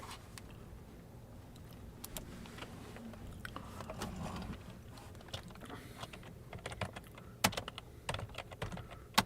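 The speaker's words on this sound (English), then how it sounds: "I'm going to type it up." Steady typing on a computer keyboard, a run of close, irregular clicks and taps with occasional sharper key strikes, heard alone without speech.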